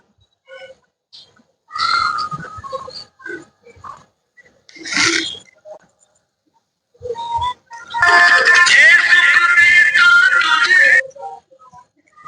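A phone ringtone melody plays in short bursts with gaps between, then a longer, louder stretch of the tune near the end.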